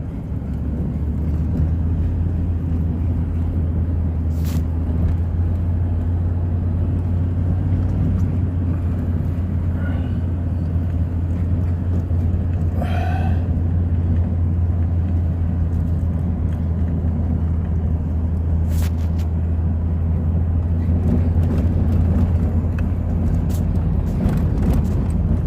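A 1993 Chevy 4x4 pickup drives in first gear on an icy road, with a steady low engine drone and road rumble from inside the cab, plus a few faint clicks and rattles.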